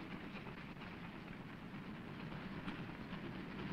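The first train from the mainland rolls into wartime Leningrad with a constant rumbling clatter of wheels on rails, steady and fairly quiet, with no voices.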